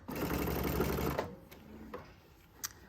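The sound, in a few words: sewing machine sewing long running stitch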